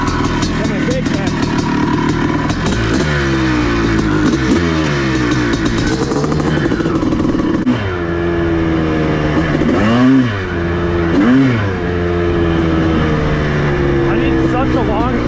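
A 1984 Honda CR500 two-stroke dirt bike, freshly revived after decades unused with its carburetor needle clip raised, revs loudly while being ridden, its pitch climbing and falling through repeated throttle sweeps, close and continuous.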